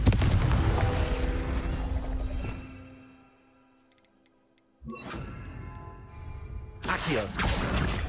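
A Confringo blasting spell explodes in Hogwarts Legacy, a loud broadband burst that rumbles and fades over a few seconds, followed by near-silence, then further bursts of game noise.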